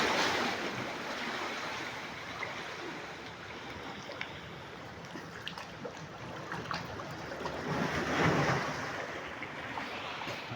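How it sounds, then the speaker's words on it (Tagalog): Ocean waves wash continuously at the Secret Lagoon, a steady broadband surf roar that swells louder toward the end, with no talking. "kasi malakas yung alon"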